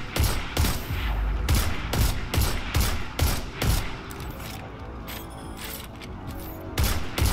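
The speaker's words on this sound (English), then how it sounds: "So for these guys, I just use a linear rifle and get headshots." Linear rifle shots fired in Destiny 2, a steady series of loud, sharp cracks at roughly half-second intervals with mechanical clatter between them, close and prominent.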